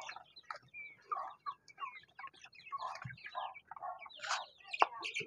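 Heritage chicks, well grown, cluck and peep in a brooding pen. The calls come close and fairly soft, overlapping in irregular bursts with no talk.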